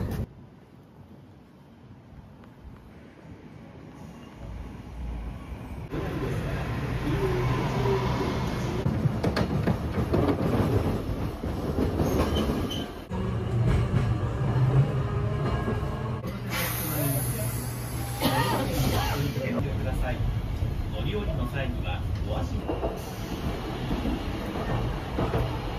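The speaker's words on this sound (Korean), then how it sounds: "20분 조금 넘게 지금 트램 타고 왔고요." Tram ride through Hakodate, a steady rumble of the car rolling on rails with brief quieter gaps, close and continuous, with some talk at moderate level.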